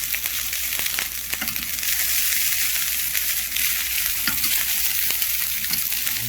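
Rice frying with bacon in a pan for fried rice, a steady close sizzle with scattered crackles and occasional scrapes of stirring throughout, no voices.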